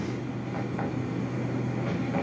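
A rail wagon rolls along in the physics-puzzle game Human Fall Flat, giving a steady low rumble with faint rhythmic clatter throughout, no voices.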